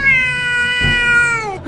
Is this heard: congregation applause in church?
no